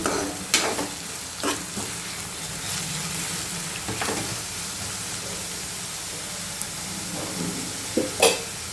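Steady sizzling of onions frying in a pan, with a spoon scraping and stirring through them at irregular intervals, close and continuous.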